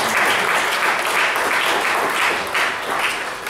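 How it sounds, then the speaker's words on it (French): Church congregation applauds loudly with a dense, continuous wash of clapping and voices, the intensity surging and easing in waves. "Nous avons tout applaudi"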